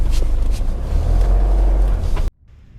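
A car drives along a road in New Zealand, a steady low engine rumble and road noise from inside the cabin that cuts off abruptly near the end.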